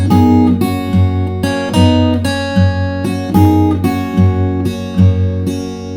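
Delta blues fingerstyle acoustic guitar, a steady thumping alternating bass note under plucked treble licks, played close and clear with no talking.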